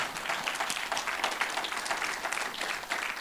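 A church congregation claps steadily in sustained, dense applause during a Sunday service, with no pauses, close and moderately loud.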